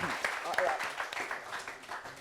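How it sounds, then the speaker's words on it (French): Audience applause, a dense patter of many hands clapping at steady volume, with a voice talking over it. "Applaudissements pour ça."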